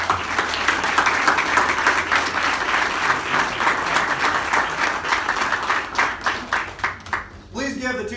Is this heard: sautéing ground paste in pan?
no